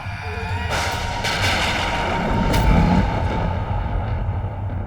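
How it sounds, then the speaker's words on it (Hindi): A deep, continuous rumbling boom rolls in loud and steady, swelling midway like distant thunder or a massive mythic upheaval, with no speech over it. "ये कैसी गड़गड़ाहट है?"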